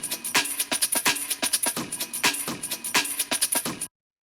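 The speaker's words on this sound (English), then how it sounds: "So then the next layer we have here is the actual breakbeat" A breakbeat built from a drum break sample, with punchy kicks, crisp snares and busy hi-hats in a fast, syncopated loop. It plays fairly quietly for about four seconds, then stops abruptly with no speech.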